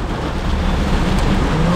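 Heavy rain pours steadily and loudly in the snowy mountains of Spiti, a dense, unbroken hiss with a low rumbling undertone and no voices.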